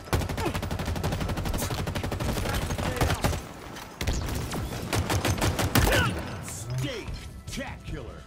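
Dense bursts of rapid automatic gunfire and explosive impacts from Halo Infinite combat, loud and nearly continuous with brief pauses, under occasional talk.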